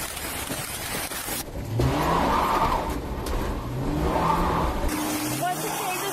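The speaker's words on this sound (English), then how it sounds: "the suspect drives the stolen police vehicle at high speed across snow-covered roads" A stolen police car driven at high speed over snow-covered roads, its engine revving hard with rising and falling pitch sweeps, heard continuously under a narrator's voice.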